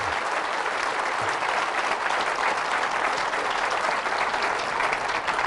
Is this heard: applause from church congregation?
yes